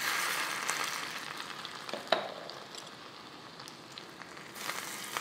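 Tadka for Vidarbha-style gola waran sizzles quietly as oil, garlic, coriander and a pinch of asafoetida crackle in a hot pan, with a steady soft hiss and one brief sharp pop partway through.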